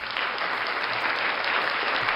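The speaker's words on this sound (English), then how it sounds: "Another round of applause for Mr. Cool." Sustained applause from a crowd greeting the wrestling show host Mr. Cool, a steady wash of clapping that holds at even loudness throughout with no talk over it.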